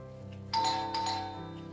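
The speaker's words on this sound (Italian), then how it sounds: "È arrivata Anna, ho sentito il campanello" A two-tone doorbell chime rings twice in a home kitchen, a clear bright ding followed by a second strike that rings out over a steady low background hum.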